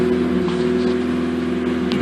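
A Mazda RX-8 rotary engine idles steadily while warming up from cold, a close, even drone with a constant low hum and no talking.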